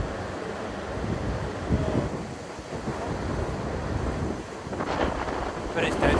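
Wind buffeting a microphone on an Anglesey beach at night during sea fishing, a steady broadband roar with surf mixed in and gusts swelling louder toward the end, no talking.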